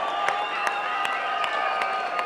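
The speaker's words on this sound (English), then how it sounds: "Ladies and gentlemen, once again, give a round of applause for these two combatants here tonight." A crowd applauds two mixed martial arts fighters in the cage after their bout, a dense, steady roar of clapping with a few cheers running throughout.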